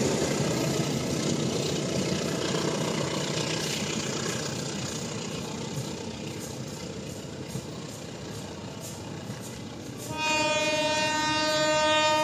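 An empty Babaranjang freight train rolls through a station, a loud steady rumble of wagons on rail running throughout, joined near the end by a sustained multi-tone horn blast.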